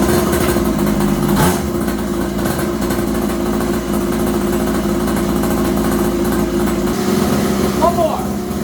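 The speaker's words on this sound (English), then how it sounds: "Let's give it a base run quick and see what kind of horsepower this thing makes." A kids' quad built from a budget mini moto runs on a dyno, its small engine droning steadily and loudly at a constant pitch, with a brief surge early on and a drop in revs near the end.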